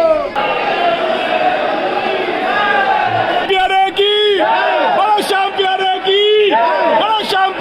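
Dense crowd noise at the Khatu Shyam Ji temple, a steady roar of many voices and chanting with shouted calls rising over it throughout, loud and close.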